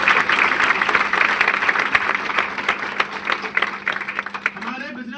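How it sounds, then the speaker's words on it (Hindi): An audience in a seminar hall claps together, a dense close burst of many hands that thins out toward the end, with a voice speaking over it. "एक बार अपने लिए ताली बजा लो जिन्होंने हाथ बढ़ा दिया"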